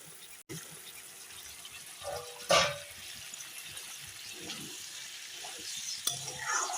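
Sugar water with eggplant simmers in a pan as it starts to boil, giving a steady soft bubbling hiss with an occasional clink of a utensil against the pan.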